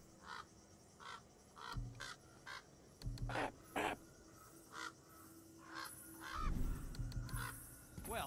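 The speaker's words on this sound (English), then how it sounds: "One of those fancy crows." Several harsh caws from a crow ring out in the God of War video game, spaced irregularly over a low ambient game backdrop, moderately close and standing out clearly with no voices.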